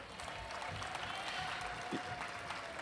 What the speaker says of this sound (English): Please, a round of applause, ladies and gentlemen.